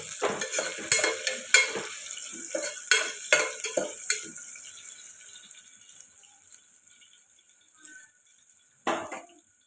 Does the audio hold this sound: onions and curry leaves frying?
yes